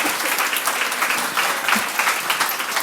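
Audience applause at a church women's panel, a dense, steady wash of clapping from the crowd at even level throughout, with no talk over it.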